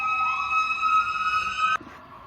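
Emergency vehicle siren outside, a steady loud wail held for nearly two seconds before cutting off abruptly, leaving quiet room tone.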